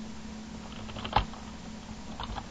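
Sparse computer keyboard clicks with one sharper keystroke midway, heard nearby over a steady hum as Visual Basic code is typed.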